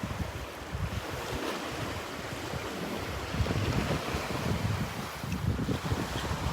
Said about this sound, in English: And these little waves kind of spread things out.